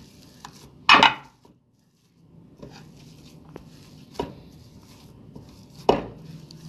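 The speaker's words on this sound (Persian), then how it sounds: "حالا سیب زمینی رو لهش میکنم." Boiled potatoes are mashed in a bowl for Persian lentil cutlets. A few sharp knocks and scrapes of a utensil against the bowl sound close and well spaced, with quiet stretches between them and nobody speaking.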